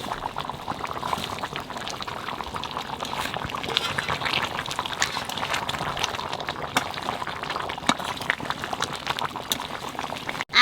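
Mutton curry bubbling vigorously in an uncovered pot, a dense steady burble of popping bubbles, close and continuous throughout.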